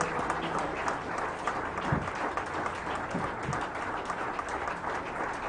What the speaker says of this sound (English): Please let's keep clapping until he comes